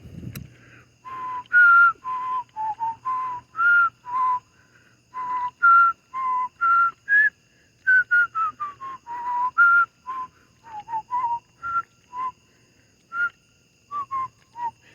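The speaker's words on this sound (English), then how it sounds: "I don't think whistling helps you think of another song." Someone whistles a tune in short, clear notes with small pauses between phrases, close and fairly loud against a quiet background.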